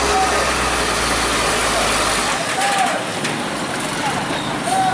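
An overloaded truck's engine idles with a low, continuous rumble at a night-time roadside traffic checkpoint in Banten, steady and fairly close, with a faint high whine and background road noise.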